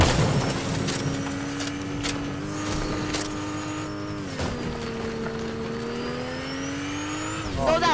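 A car in the Fortnite video game drives off, its engine revving loud and steady with a rising, shifting pitch, then a short squeal near the end.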